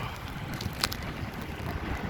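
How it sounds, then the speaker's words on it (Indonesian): Strong wind gusts over open water on a fishing outing near a pier, buffeting the microphone as a constant rushing roar with a brief sharp bump partway through, and no voices. "Angin ngagelebuk"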